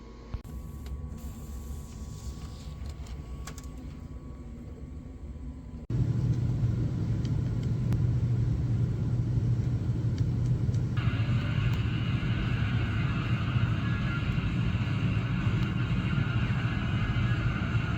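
Racing car engines in Gran Turismo 4 played on a backwards-compatible PS3, a steady loud drone that jumps in level partway through and holds a constant roar with a higher whine layered on later.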